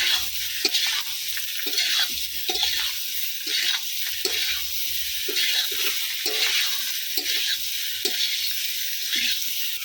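Food fries in a pan on a clay stove with a continuous close sizzle. Salt is added as the food is stirred and scraped in short repeated strokes, with no talk.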